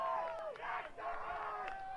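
Crowd at a 2021 NIRSA men's national championship university ice hockey game cheering and shouting in a loud, sustained roar, with rising whoops and cries swelling throughout.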